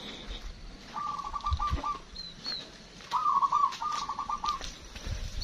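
A caged perkutut, or zebra dove, sings two clear bursts of rapid trilling coos with a steady background hiss and faint distant noise around it.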